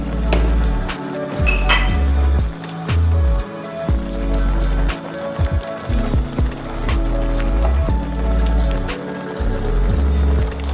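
Spoon stirring baked pasta sauce with rosemary and curry in a pot, repeated close scraping strokes and clinks of utensil against the pot in an uneven rhythm, loud and continuous with no talk.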